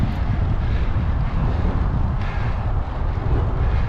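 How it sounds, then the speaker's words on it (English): Strong, steady wind roaring and buffeting against a microphone while cycling uphill into a headwind of about 40 km/h; continuous loud low rumble with no voices. "against a fucking 40k an hour wind too"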